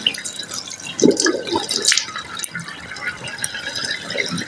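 Tap water runs and splashes unevenly while someone washes their face after brushing their teeth, with close, irregular spatters and trickles over a steady wet hiss.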